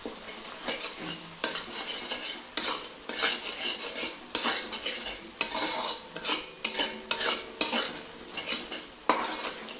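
Cauliflower stir-fried with ground nut paste and green chillies in a pan, a utensil scraping and knocking against the metal in a regular rhythm of strokes over a soft sizzle, close and alone.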